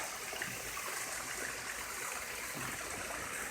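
Water flows and splashes steadily in the alligator area at Gatorland in Florida, a continuous broadband wash like a stream or small waterfall, fairly faint and unbroken with no voices.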